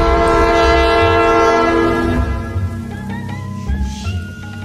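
A train in a video game runs someone over: a loud, sustained horn blares close up, then fades as the rumble and clatter of rail cars rolls past.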